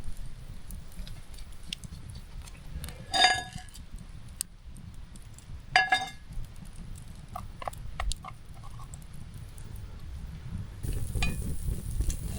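Bannock pancake batter frying in oil in a pan over an outdoor campfire, a soft steady sizzle with a few louder crackles and scrapes, and faint birdsong in the wilderness background.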